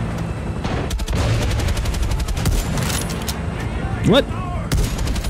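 Rapid exchange of gunfire in a shooter video game with sniper shots, bursts of shots layered throughout, plus a rising whistle-like effect near the end; a voice briefly speaks over it.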